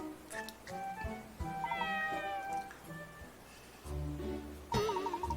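A cat meows several times in the puzzle game Layton's Mystery Journey, short tonal cries spaced out over light background game sounds, the last meow wavering and more prominent.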